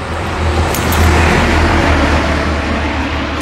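A car drives toward a small harbour at dawn, with a steady, close road rumble and tyre noise holding level throughout and no talk.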